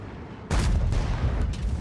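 A WZ-111 tank cannon fires in a video game, a single loud boom arriving abruptly and rumbling on with a heavy low tail and no talk over it.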